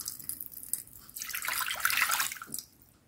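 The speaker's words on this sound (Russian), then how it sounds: "В кастрюльку вливаем 200 мл воды." Water is poured into a small saucepan in a kitchen, a faint splashing trickle that swells into a fuller pour in the middle and then tapers off, heard close and alone.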